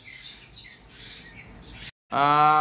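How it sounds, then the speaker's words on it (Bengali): Cockatiels at a bird seller's stall: soft, scattered chirps, then a short pause and a loud, harsh squawk close by. "এখানে কিন্তু আপনারা দেখতে পাচ্ছেন ককাটেল পাখি রয়েছে"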